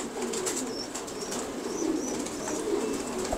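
Foreign-breed pigeons on a pigeon farm coo softly and steadily, with occasional wing flaps and faint chirps over a constant background hum, and no talking.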